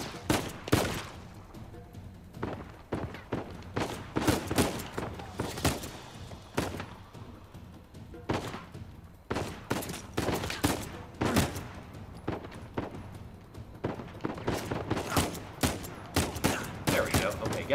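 Enemy gunfire in the action video game Uncharted 4 crackles in rapid, loud bursts of shots and automatic fire, dense clusters separated by brief pauses and continuing throughout.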